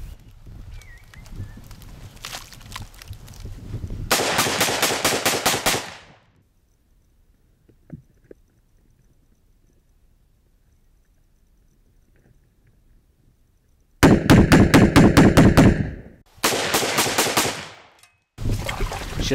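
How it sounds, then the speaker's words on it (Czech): A FAV-AR rifle, still fouled after being pulled from mud, fires loud rapid bursts at an outdoor range, with quiet gaps between the volleys and several strings of shots near the end. "Zde je znečištěná zbraň po vytažení z bahna schopna i hned střelby."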